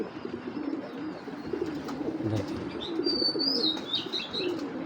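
Racing pigeons coo close by in a low, rolling murmur that carries through the clip, with a few higher chirps and faint wing rustles toward the end, and no voices.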